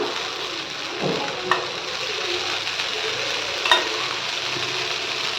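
Oil sizzles steadily in a covered pan as a dosa fries, a constant hiss with a couple of faint clinks and no talking.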